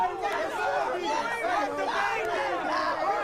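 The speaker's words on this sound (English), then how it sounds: "Kind of hear the Bengals from the bench going absolutely nuts over there" Football team's bench cheering wildly at a high school game, a dense crowd of excited shouting and yelling voices blending together, steady and fairly close.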